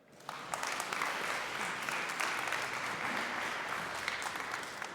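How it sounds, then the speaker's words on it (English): An audience at a tech conference welcomes a speaker with applause. The clapping swells up from near silence and stays full and even, a moderately distant crowd with no voices over it. "have a warm round of applause for Theo"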